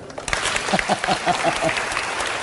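Lecture-hall audience applauding after a student's question on exchange rates: moderate clapping throughout, with a voice speaking over it in the middle.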